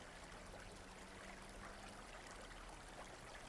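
Baglan Brook babbles down a hillside, a faint, continuous trickle and rush of running water with no break.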